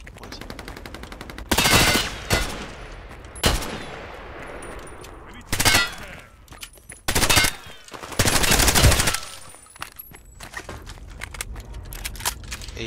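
An AEK assault rifle fires in the video game Hired Ops in several loud, close bursts of rapid automatic shots, separated by quieter gaps with faint clicks and movement.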